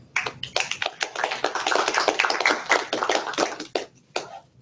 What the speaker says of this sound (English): I appreciate the warm applause